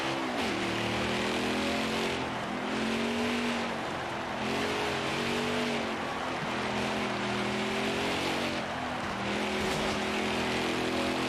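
Race car engines drone in a racing video game, rising and falling in pitch through repeated shifts, steady and continuous at moderate level with no talking.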